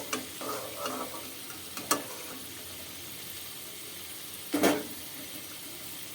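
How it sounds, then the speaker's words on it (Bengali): Potatoes fry quietly in a pan of oil in a home kitchen, giving a soft, steady sizzle broken by a few brief clinks and scrapes. "তারপর আলুটা ভেজে নিচ্ছিলাম।"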